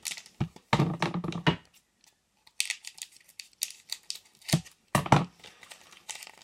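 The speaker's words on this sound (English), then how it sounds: "when you're cutting with scissors" Scissors snip and crinkle through the foil wrapper of an AFL TeamCoach 2019 trading card pack, with close bursts of crumpling and cutting separated by quiet pauses.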